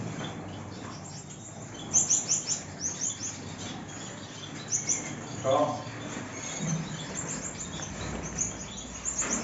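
Several Gouldian finches chirp and tweet in bursts, with short, high calls clustering near the start and middle over a steady background hum.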